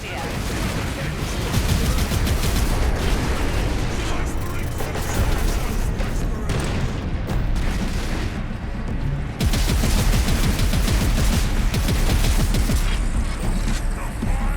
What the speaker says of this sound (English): Incoming. Gun firing.